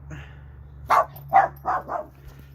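A dog lets out four short, sharp barks in quick succession nearby, over a steady low hum in a garage where a 2004 Toyota Corolla is being worked on.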